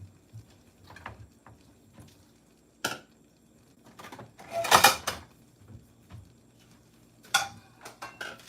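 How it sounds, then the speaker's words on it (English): Knife chopping six Oreo cookies in a kitchen, scattered taps and clicks with a few sharper louder cuts, irregular and close, no talking. "I'll leave you guys to watch this for me while I'm chopping up some Oreos."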